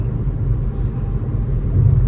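A car crossing a bridge gives a steady, loud low rumble of road and engine noise heard from inside the vehicle, continuous and swelling slightly toward the end, with no voices.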